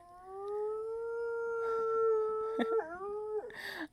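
A dog lets out a long, sustained howl, its tone wavering and breaking into shorter whining yelps near the end, fairly close by.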